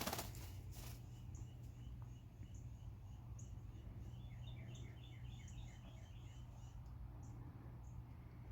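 Faint chirps and soft twittering from a large pet bird in a loft, over a steady low hum, with possible brief wing flaps near the start.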